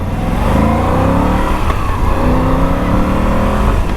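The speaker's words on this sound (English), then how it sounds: "the standard exhaust still sounds quite good on this model" A Moto Guzzi V85TT motorcycle engine revs through its standard exhaust, a loud close-up throaty drone with rising and falling pitch sweeps sustained throughout.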